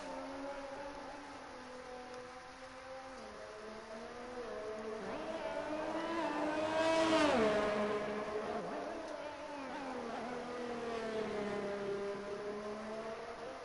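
A Haas Formula 1 race car engine howls through a lap of the Singapore circuit, its pitch rising and falling with gear changes and swelling to a loud peak as the car passes close before fading again.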